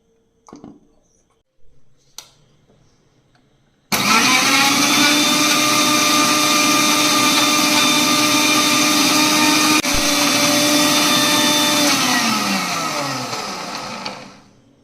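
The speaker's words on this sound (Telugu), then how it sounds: "ఇప్పుడు మిక్సీ పడతా." A mixer grinder blends an avocado smoothie, starting abruptly and running as a loud, steady whirring motor that holds for about ten seconds before winding down. A few faint knocks come before it starts.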